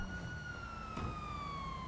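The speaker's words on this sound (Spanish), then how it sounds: "Pero aquí siempre oigo la policía." A police siren wails steadily in Grand Theft Auto V, a gliding tone held across the whole moment over low engine and traffic rumble, with no one talking.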